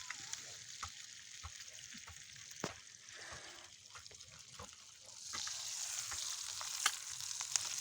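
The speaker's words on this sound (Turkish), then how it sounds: "şu an üstünde keşkek altında yağ kızarıyor" Village butter, organic and homemade, fries steadily beneath a pot of keşkek with a soft, continuous sizzle and scattered crackles. The sizzle grows brighter and louder partway through, with a few sharp pops.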